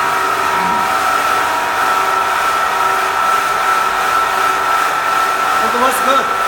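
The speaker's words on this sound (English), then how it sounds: "The vacuum pump going down." A vacuum pump on a vacuum gold bar casting machine runs loudly and continuously, a constant droning motor hum with no pauses.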